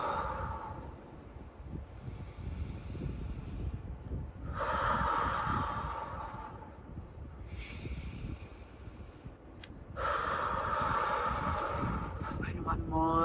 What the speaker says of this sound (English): tuning into the body by taking deep conscious breaths